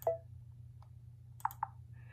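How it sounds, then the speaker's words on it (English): Design software clicking as a color fill is applied, a few short faint clicks spread apart over low background hum. "it made a clicking noise"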